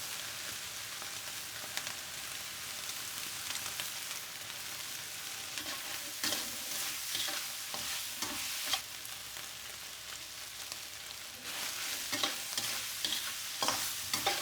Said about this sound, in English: After stir frying for a few more minutes